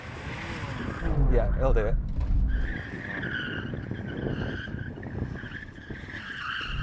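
A BMW launching off the line in a drag race, its tires skidding with a loud squeal that rises and fades into engine roar, while people talk over it.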